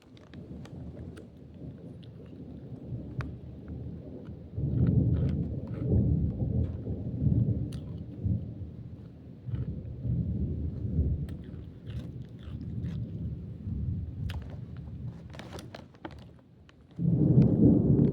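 Thunder rumbles through a heavy rainstorm on a rainy afternoon, with broad low rolling swells that build and ease over the whole stretch and a loud fresh surge near the end, rain hiss underneath, no voices.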